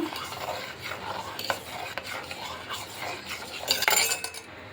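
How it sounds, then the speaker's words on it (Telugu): A spoon stirs sago and custard payasam in a pot, making repeated soft scraping and swishing strokes with a faint sizzle beneath and a brief metallic clink near the end. "ఇలా కలుపుతూ ఉంటే మనకి అడిగట్టకుండా ఉంటాయి ఇలా కలుపుతూ ఉడికించుకోవాలి మనము"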